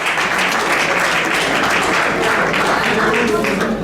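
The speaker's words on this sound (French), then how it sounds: "Est-ce qu'on peut applaudir bien fort pour l'artiste Mimika Bongo?" Loud, dense audience applause at the Nzonzing Awards ceremony for the artist Mimika Bongo, steady clapping filling the room throughout with a faint murmur of voices underneath.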